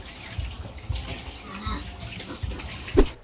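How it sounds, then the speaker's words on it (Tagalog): Running water splashes over hands being washed, a steady broadband wash with small bumps and a brief louder splash near the end, recorded close. "So, I'm now washing my hands, no?"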